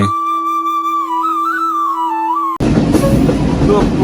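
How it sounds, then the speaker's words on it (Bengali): A passenger train runs through open countryside. A sustained wavering tone gives way abruptly to a loud, broad rumble of the carriages on the rails. "ট্রেন ছুটে চলছে তার গন্তব্য স্থানে"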